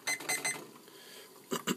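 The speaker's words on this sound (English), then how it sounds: "now you heard the timer going off" A film development timer beeps in short repeated bursts, three quick tones then a pause and two more, close and clear during black-and-white film processing with a Jobo CPE-2.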